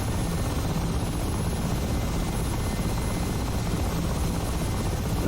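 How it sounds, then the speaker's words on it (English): Steady, dense rotor and turbine roar of a Mi-8 Hip helicopter in the DCS flight simulator, a continuous loud drone with a faint high whine, unchanging throughout and no talk. "This is one big behemoth of a helicopter"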